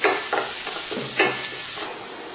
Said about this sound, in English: And saute it in slow flame.